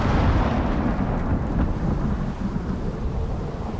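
A thunderstorm in the survival video game ICARUS, with a deep continuous rumble of thunder and heavy rain hissing steadily throughout and no voices.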